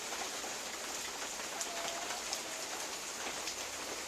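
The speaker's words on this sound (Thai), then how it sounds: "ฝนตกแล้วครับ อากาศเย็นชุ่มฉ่ำนะครับ" Steady rainfall, an even dense hiss of drops on surfaces with a few closer taps, continuous and without talk.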